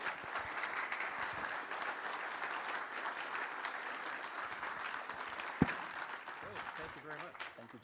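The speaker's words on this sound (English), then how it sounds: "Please join me in a round of applause" An audience at a veterans forum gives a sustained round of applause, a dense, moderately quiet patter of many hands clapping that continues evenly throughout, with a single sharper knock partway through.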